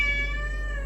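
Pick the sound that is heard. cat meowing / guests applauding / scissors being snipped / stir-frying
cat meowing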